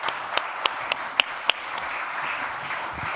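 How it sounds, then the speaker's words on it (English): A handful of separate claps from a conference audience greeting panelists at a startup challenge event, six or so sharp hits spaced about a quarter second apart, then fading into room murmur. "Some clapping."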